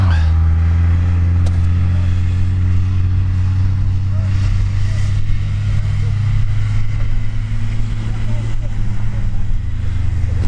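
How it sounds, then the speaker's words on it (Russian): Car engines droning loudly and steadily during a GPS orienteering competition on open steppe, with sustained revving and no clear pauses. "сейчас едут за точками автомобиля"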